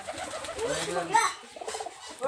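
Highflyer pigeon cooing softly nearby, low throaty murmurs mixed with a few brief wing rustles and handling noises, with a voice talking faintly over it.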